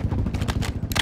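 Weapon magazine being swapped in Call of Duty: Modern Warfare II, a quick run of close mechanical clicks and clacks ending in a sharper metallic snap, over a low rumbling game backdrop.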